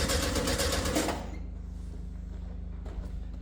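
A 1971 VW Beetle engine cranks over without starting, a loud, steady mechanical churning for about a second that drops to a quieter, rhythmic whir with a brief bump near the end.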